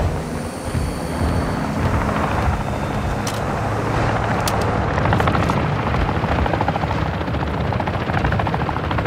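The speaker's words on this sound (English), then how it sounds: "A cargo helo has entered the airspace." A cargo helicopter in the Call of Duty: Modern Warfare II video game thunders with loud, continuous rotor thumping and engine roar, with scattered distant game booms mixed in.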